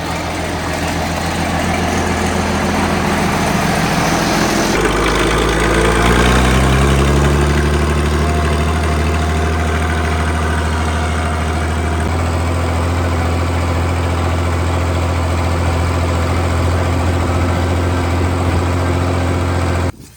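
Engine starting up and then idling with a loud, steady low rumble and vibration, close by, with the tone settling after a few seconds.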